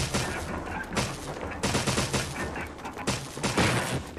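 Rapid bursts of gunfire from the Resident Evil 1 HD Remastered video game, loud and dense, with several heavy volleys starting near 1, 1.6, 3 and 3.5 seconds over continuous game noise, shot at an approaching crimson head zombie.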